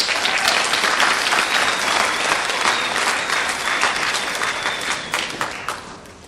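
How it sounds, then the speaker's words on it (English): Sustained applause from an audience, dense steady clapping that slowly thins and fades toward the end. "Please give a round of applause for Ryan Teese."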